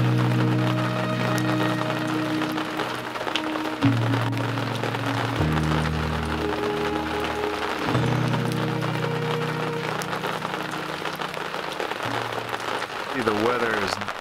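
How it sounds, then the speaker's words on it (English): Steady rain falling at an RV campsite at Lost Lake, Oregon, a continuous soft patter with a low hum underneath and occasional tonal background sounds, no talking. "Definitely continuing to rain on us."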